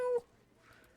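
A cat in a video game gives one short, clear meow at the start, followed by quiet game ambience.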